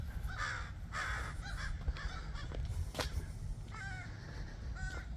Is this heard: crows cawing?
yes